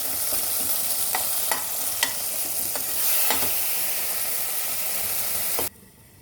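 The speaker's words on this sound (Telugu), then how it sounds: "టమాటా మగ్గింది కాబట్టి ఇలా స్మాష్ చేస్తే గ్రేవీ లాగా మనకి అయిపోతుంది." A spoon presses and smashes softened cooked tomatoes in a pan into a gravy for a village-style potato and chana dal curry, giving a steady sizzle with several sharp scraping taps before the sound drops away near the end.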